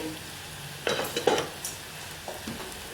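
Ingredients frying in oil in a pan are stirred for bread pakoda filling, a soft steady sizzle broken by a few scraping stir strokes and light utensil knocks, close by with no voices.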